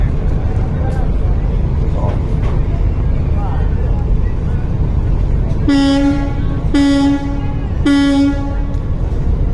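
Passenger launch ships at the Barisal launch ghat at night: a steady noisy background of engines and crowd, then three deep, loud horn blasts sounded about a second apart.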